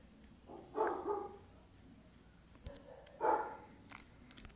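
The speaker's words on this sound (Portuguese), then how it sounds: "Cachorro xarope ali latindo ali" A dog barks off in the distance near an outdoor setting, two faint bursts of a couple of barks each, separated by quiet background noise.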